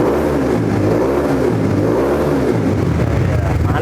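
A custom Honda CBX 150 motorcycle fitted with an RNBW aftermarket exhaust, revved in a few rising and falling swells with a deep, bassy burble, close and loud.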